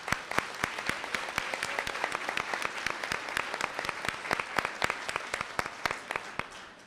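Audience applauding local union members at an education conference plenary, brisk, fairly even clapping with distinct individual hand claps cutting through a steady crowd wash.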